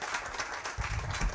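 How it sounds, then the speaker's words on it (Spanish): Audience at a blockchain and prompt engineering developer talk gives a short burst of applause for a speaker, a brief, fairly faint patter of clapping with some low rumble underneath. "por favor démosle un fuerte aplauso a Daniel"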